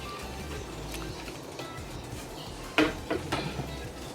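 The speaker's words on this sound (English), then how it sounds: "I'm gonna cover the pot and let it boil" A lid is set onto a pot of simmering fish broth on a home stove, giving one sharp metallic clink followed by a few lighter rattles as it settles, heard close over a steady low kitchen hum with no talking.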